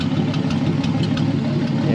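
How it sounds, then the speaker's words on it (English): A car engine idles steadily with a new exhaust fitted, a deep, even rumble close by that holds without revving, on a NASCAR tribute project car. "Of course, when you rev it up, it sounds like a 6-cylinder, but at idle, I'm pretty happy with it"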